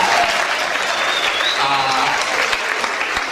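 Audience applause fills a dance evening in Choceň, dense steady clapping from a crowd throughout, with a voice briefly speaking over it.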